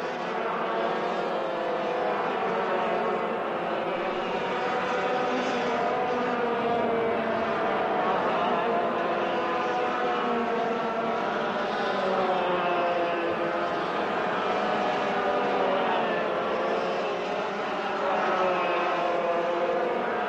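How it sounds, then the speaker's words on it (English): Race car on its final lap of a Yamaha Challenge Clubman race at the 1987 Castrol event, a continuous loud engine drone holding steady for about twenty seconds. "Just one corner remaining for Ray Hart now"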